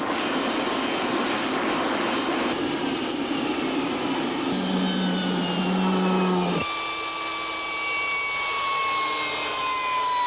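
A helicopter landing beside an inspection site makes a loud, continuous turbine whine and rotor roar. Its pitch shifts downward in steps as the aircraft settles. No voices are heard.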